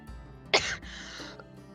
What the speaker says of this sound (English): So many y'all having coughing issues.